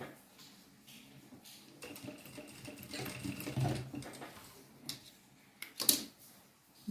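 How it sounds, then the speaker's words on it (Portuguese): A sewing machine topstitches the edge of a trouser pocket with a steady, muffled mechanical whir, joined by a few light clicks and taps near the end, close up and moderately quiet. "Passo o pesponto desse lado."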